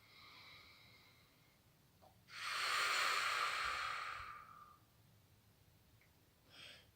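Deep breathing during a guided sophro-meditation: one long, loud airy exhale of about two seconds, with softer breaths before it and a brief faint breath at the end.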